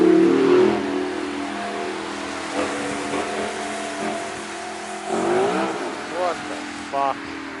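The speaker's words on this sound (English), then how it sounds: "There was a car." A car drives past a cyclist on a road, its engine swelling and then fading as it goes by close and loud, with revving toward the end.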